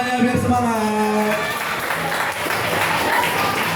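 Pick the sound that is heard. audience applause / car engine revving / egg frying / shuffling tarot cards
audience applause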